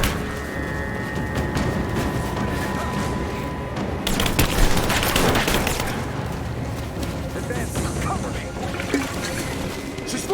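Gunfire in the video game Rise of the Tomb Raider, bursts of shots and booms over a busy combat soundscape, with a loud cluster in the middle and voices shouting over it.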